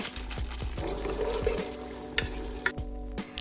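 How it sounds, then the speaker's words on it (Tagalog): Tofu fries in a pan as a side dish for chicken congee, giving a quiet, steady sizzle broken by a few light clinks and scrapes of stirring. "We can also fry some tofu as a side dish for our congee"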